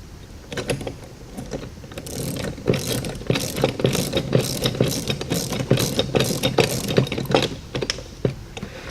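A ratchet torquing down shoulder bolts on a folding plate hinge assembly, a rapid series of close, loud mechanical clicks and whirring bursts lasting several seconds.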